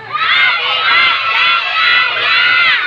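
A crowd of children shouting loudly together, a sustained high-pitched roar of voices that swells and dips without pause.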